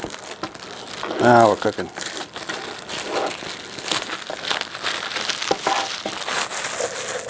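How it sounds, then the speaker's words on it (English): Plastic wrap and foil crinkle loudly and close up as a mini PC is unboxed, in bursts of crumpling and rustling, with someone talking over the handling. "Try not to cut the box, just the foil. Plastic wrap."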